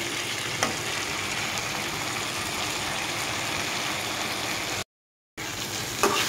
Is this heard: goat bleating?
no